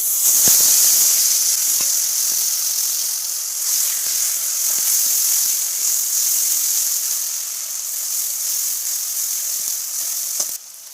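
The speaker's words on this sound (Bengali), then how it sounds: "মাছ ভাজার তেলের ভিতরে আমি সব মশলা একসাথেই দিয়ে দেব।" Spices tipped into hot fish-frying oil in a wok give off a bright, hissing sizzle that stays strong and even throughout, with a few faint clinks and no talking.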